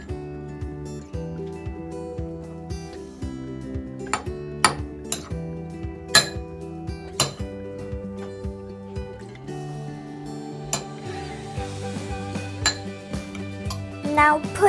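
A spoon clinks and scrapes against a bowl while a Indian-style toast sandwich filling is stirred, irregular metallic taps and rattles up close, with steady light kitchen noise underneath.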